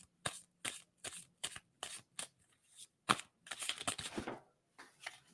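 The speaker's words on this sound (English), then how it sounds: "let me shuffle" Playing cards shuffled by hand in a series of crisp riffled bursts with short pauses between them, close and fairly quiet, followed by a longer flurry of card rustling.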